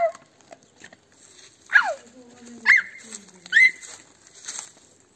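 A dog outdoors in a village whimpers and gives a few short, high yelps in separate bursts, fairly close, with quiet background between them.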